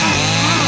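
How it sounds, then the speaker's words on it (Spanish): A chainsaw runs with a steady, loud engine drone throughout a very short moment, with no talk over it. "Con la motosierra."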